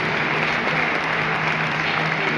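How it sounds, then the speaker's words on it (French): Steady crowd applause fills a basketball arena during a French Pro B game between Vichy Clermont Métropole and Rouen, a dense, continuous wash of clapping with no break. "Applaudissements pour Dimitri"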